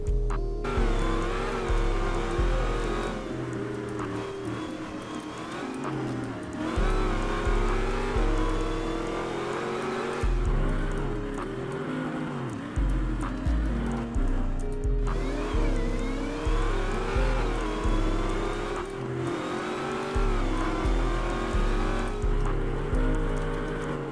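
Dodge Demon engine roaring in a roleplay driving video game, a loud continuous throaty rumble with repeated revving surges and gear changes, alone with no talk.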